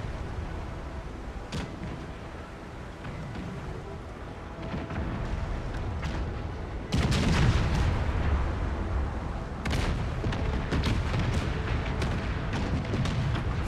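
Naval cannons fire from warships in a broadside battle in Empire Total War, a long run of booming shots and crackling blasts, heavier after midway, under a continuous rumbling din.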